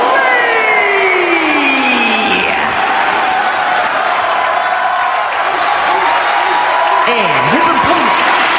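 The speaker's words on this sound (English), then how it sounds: "the crowd is actually cheering for Wesley here tonight" Wrestling fans in a WWE 2K25 arena cheer steadily as a loud, sustained crowd roar, overlaid by sweeping electronic tones and a booming announcer-style presence.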